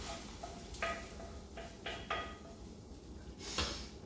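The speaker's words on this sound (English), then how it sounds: "Take it and mix it all together." Garlic, cherry tomatoes, black pepper and salt being mixed together in a bowl, faint scattered scraping and clinking strokes at an irregular pace against a quiet background.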